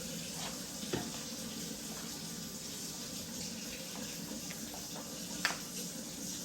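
A kitchen tap runs in a steady, even rush of water during home cooking, unbroken from start to finish, with a couple of faint knocks.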